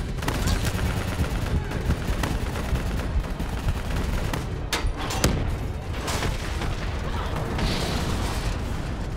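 Call of Duty Black Ops 3 combat against a VTOL aircraft: dense, continuous automatic gunfire and booming blasts fill the scene at high intensity, with sharp cracks standing out midway.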